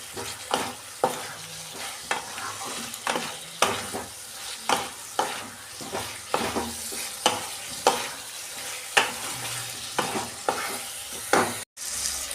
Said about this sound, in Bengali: আমি এই যে ক্যাপসিকাম আর আলু ভেজে রেখেছিলাম দিয়ে দিচ্ছি। এটা দিয়ে আমি 2 মিনিট কষাবো।